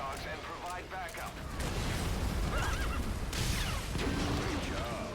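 A horse whinnies twice early on in the game Metal Gear Solid V, amid loud rumbling battle noise with voices and crashes swelling over the rest.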